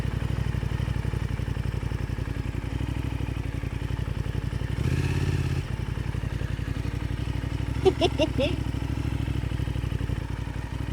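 A motorcycle engine idles and putters at slow speed during U-turn practice, with a steady low pulsing throughout, a brief whooshing swell midway and a short clatter near the end.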